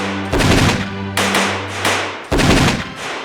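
Gunfire sound effect accompanying a narrated account of a crowd being shot: three loud bursts of rapid shots, each followed by a rumbling echo, alone without talk.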